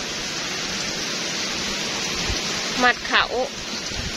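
Heavy rain pours down steadily in a sudden storm, a dense constant hiss close by with brief voices speaking near the end.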